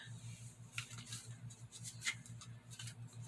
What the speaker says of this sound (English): So I'm going to shuffle these cards with a golden crown on the back.